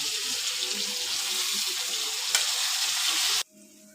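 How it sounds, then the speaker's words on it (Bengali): Steady, loud sizzling of food frying in a pan with a brief clatter near the end before the sizzle drops away abruptly. "পেঁয়াজটা ভাজা ভাজা হয়ে গেছে, টমেটোগুলো দিয়ে দিল।"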